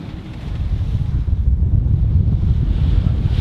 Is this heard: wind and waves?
yes